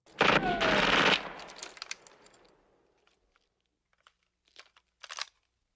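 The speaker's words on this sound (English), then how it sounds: "Cut to every single one of them shooting." Sustained automatic gunfire from the 1982 action film First Blood, a loud dense burst of about a second that tails off into scattered echoes and a few distant later shots.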